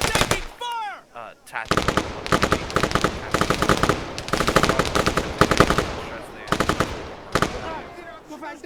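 An M2 machine gun fires in a military simulation game running AI mods, sustained heavy automatic bursts near and loud, with whistling incoming rounds at the start and a voice speaking briefly over the fire.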